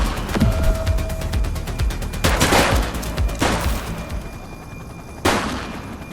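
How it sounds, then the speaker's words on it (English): Gunfire rattles through a shootout in the police video game The Precinct, with rapid bursts of shots and several sharper, louder cracks, dense and close throughout. "Light them up! He's shooting!"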